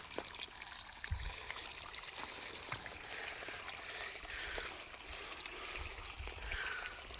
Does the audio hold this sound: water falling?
yes